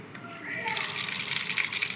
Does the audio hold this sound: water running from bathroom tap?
yes